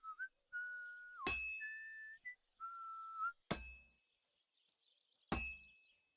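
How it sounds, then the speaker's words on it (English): In Kingdom Come: Deliverance 2, a blacksmith whistles a short rhythmic tune while forging. Clear sustained whistled notes alternate with three sharp ringing hammer strikes on metal, set in a quiet space. "That's some nice whistling."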